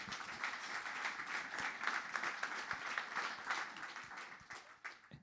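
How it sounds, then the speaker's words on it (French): An audience at a talk on hydrogen for boating applauds a presenter with steady, continuous clapping heard at a moderate distance, holding for several seconds before tapering off. "On peut l'applaudir."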